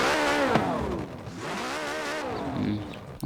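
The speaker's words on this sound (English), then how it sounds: "I'll start it too, so you can hear the engine starting noise" Porsche 918 Spyder engine starting in a video game, a whirring rise into revving engine tones that swoop up and down, fairly close and continuous, ending with a brief click.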